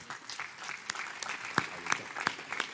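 Moderate applause from a conference audience for the mayor at an Italian geopolitics event, a scattered, uneven patter of clapping with a few sharper individual claps standing out near the end.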